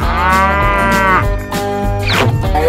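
A cow mooing in a children's animated animal cartoon: one long, loud, drawn-out moo followed by a second shorter call, clear and close with no speech.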